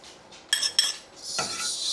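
Sugar and water stirred in a pan with a metal utensil: two sharp clinks of metal on the pan, then a soft continuous scraping swirl, close and alone.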